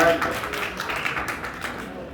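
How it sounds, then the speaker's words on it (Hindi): Children clap their hands in a classroom during a Diwali event, a dense burst of claps that starts loud and fades over about two seconds. "बजाओ ताली"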